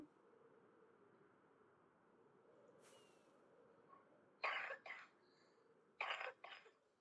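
A pet parrot lets out two pairs of short, harsh coughs close by, each burst clipped and hoarse, with a brief pause between the pairs, over quiet room hiss.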